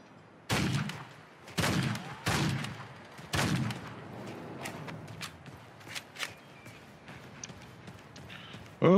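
Gunfire in the video game Remnant II, several loud, sharp shots spaced about a second apart, each trailing a short echoing tail, followed by lighter scattered clicks and thuds and one more sudden burst at the end.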